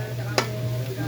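Garlic sizzles in a frying pan in a mountain kitchen: a steady, close hiss over a low hum, with one brief clatter near the start.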